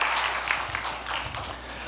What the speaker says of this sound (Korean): 여러분 큰 박수로 불러주십시오.